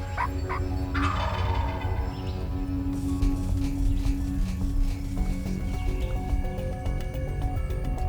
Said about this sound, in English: A couple gobblers about 300 plus yards up ahead of us, working the call, bringing them in.